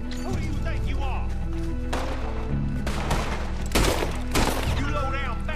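Rapid gunfire from Red Dead Redemption 2 crackles through a city shootout, repeated bursts and heavy volleys layered over game music and shouting voices, loud and dense throughout.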